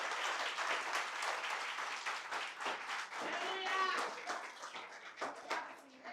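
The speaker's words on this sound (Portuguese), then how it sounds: "Pode dar uma salva de palmas ao Senhor." A church congregation claps for the Lord during a Sunday service, a brief burst of fairly faint applause mixed with scattered voices and room sounds that fades unevenly toward the end.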